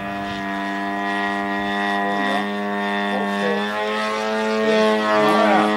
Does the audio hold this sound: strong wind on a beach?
no